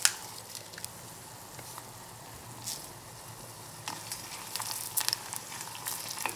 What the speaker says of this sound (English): And you stir this until this red chili turns a little brown color.